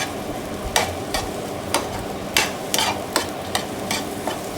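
Egg and idiyappam biryani stirred in a nonstick pan, a spatula scraping in a steady rhythm of about a dozen brisk strokes over a soft background sizzle, close and clear with no voices.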